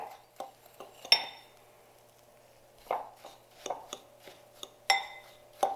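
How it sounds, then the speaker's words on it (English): A utensil scrapes and clinks against a bowl while graham cracker crumbs and brown sugar are mixed, giving scattered irregular knocks and taps with quiet gaps between them, close up. "I'm just trying to mix everything well"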